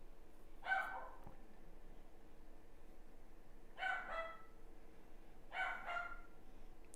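A dog barks or yelps three separate times in a quiet indoor room, each brief and well spaced, heard at a moderate distance over faint background hum.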